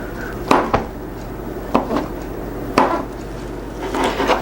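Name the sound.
chopping mushrooms by hand with a knife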